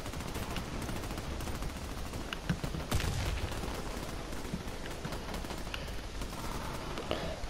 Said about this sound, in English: Now you need to get away because that guy's shooting.